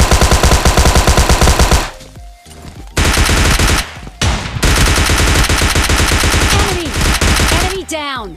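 Rapid automatic gunfire and single shots from PUBG Mobile Lite, loud and close, with sustained bursts, brief pauses, and a final drop-shot exchange with rising game effects near the end.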